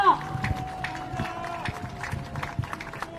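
Outdoor crowd at a Seoul election campaign rally near Chongshin University station breaks into dense, sustained applause, a continuous rattle of many hands with scattered voices mixed in.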